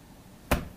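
One crisp finger snap rings out sharply against a quiet room, a single brief crack with nothing after it.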